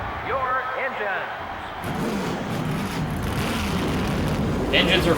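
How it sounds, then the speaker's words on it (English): Stock car engines firing up together at Kansas in NASCAR Thunder 2004, a dense, steady roar that swells and holds throughout, with a voice talking over the start. "Engines are fired here."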